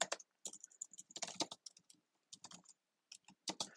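Computer keyboard typing while an email is written, irregular bursts of quick close key clicks with short gaps, quiet and alone.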